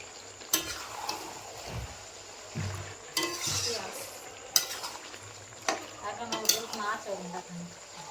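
Chicken frying in a pan with tomato and coarsely crushed garlic, sizzling under repeated clinking and scraping stirs, with a few soft thuds and a voice talking over it.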